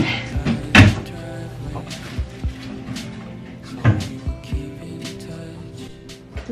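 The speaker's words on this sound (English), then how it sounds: "Not me putting all my clothes in two drawers." Drawers in a college dorm room slide and bump shut in several brief knocks and scrapes on move-in day, with a steady background hum and occasional talk.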